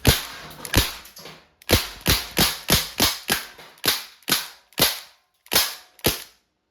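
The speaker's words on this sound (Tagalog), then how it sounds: "testing po, 1077 Freestyle CO2 powered semi-automatic" A Crosman 1077 Freestyle CO2-powered air rifle fires about a dozen sharp semi-automatic shots in quick, fairly even succession, each a crisp close crack with a short tail and no talking.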